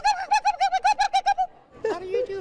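A person's voice imitates a turkey gobble, a rapid string of about ten bright, warbling pulses close to the listener, followed by a short spoken or vocal tail.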